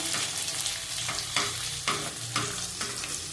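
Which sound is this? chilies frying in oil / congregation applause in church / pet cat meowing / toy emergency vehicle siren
chilies frying in oil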